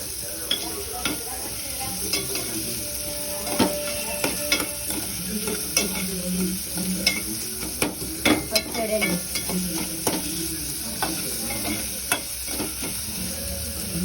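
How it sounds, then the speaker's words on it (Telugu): Ingredients being stirred and fried in a pan over a medium flame, with a steady sizzle broken by frequent scraping clicks from a spoon moving back and forth, close and moderately loud, with no talking. "బాగా అటు ఇటు కలుపుకుంటూ వాటిని బాగా వేయించుకోవాలి."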